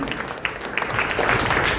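An audience at a live session in Goa claps loudly to welcome a guest, close and boisterous with crowd noise and shouting mixed into the clapping over a brief burst.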